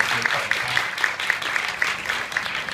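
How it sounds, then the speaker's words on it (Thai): Crowd applause at a Thai classical music competition for khim dulcimer players at secondary school level, a steady wash of many hands clapping with faint rhythmic accents throughout. "ขอเสียงปรบมือด้วยครับ"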